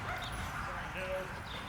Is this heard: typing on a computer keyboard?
no